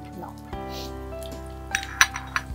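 Chopped garlic fries in a pan for Punjabi chole masala, with a soft sizzle beneath several bright clinks of a spoon stirring against the metal pan toward the end.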